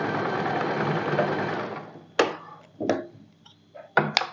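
Close, loud sewing machine stitching a folded sleeve for a boatneck dress, a continuous whir that stops, followed by a few sharp clicks and taps.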